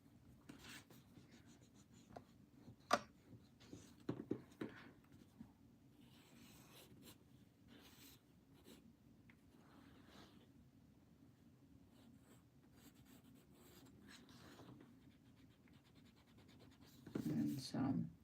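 Quick pencil or pen lines scratched across paper while sketching a king prawn, a soft repeated rubbing and scratching that runs faintly under quiet talk, with a louder burst of scratching near the end.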